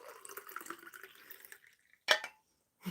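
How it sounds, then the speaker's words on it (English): Water is poured for drinking, a short splashy burst after a stretch of quieter trickling and handling noise, close by and fairly faint, ending with a small knock. "Let's get some water."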